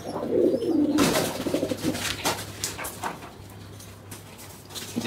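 A pigeon with clipped wings coos low and close at the start, then rustles and flutters in a small loft room over a steady low hum, with faint scattered bird sounds after.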